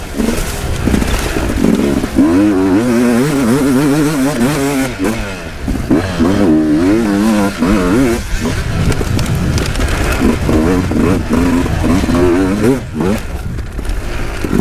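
An enduro motorcycle ridden on a hare and hound off-road event, engine revving up and down loudly and close with wind buffeting the microphone and occasional clatter.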